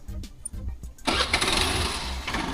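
A used 2014 Honda Activa scooter engine kicking to life after a few quiet mechanical clicks, then settling into a steady, close idle hum.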